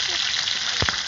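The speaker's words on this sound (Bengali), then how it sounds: "গরম হয়ে গেছে, তেল দিয়ে দিলাম। ভেজে নেব" Eggs frying in hot oil in a pan, giving a dense, steady close sizzle with a brief rattle near the end; no speech.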